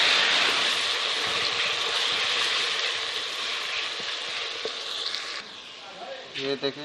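Grated ginger and garlic fry with golden onions in a pan over a lowered flame, making a loud, steady sizzling hiss that eases slightly before a voice speaks briefly near the end.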